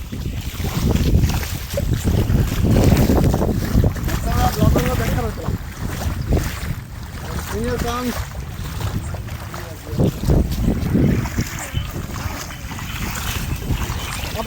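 Strong floodwater rushes across a village road at night in Bhadrak, Odisha, a steady loud broadband roar of flowing water with wind buffeting the microphone and a few voices talking faintly underneath.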